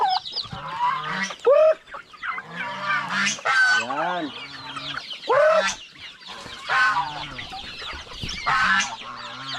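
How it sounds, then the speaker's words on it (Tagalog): Poultry pens holding chicken chicks, turkeys and a duck give off a busy mix of honks, clucks and peeps, loud and close, with a voice talking briefly among the birds. "Sisiw na manok at saka pabo. May pato din na isa."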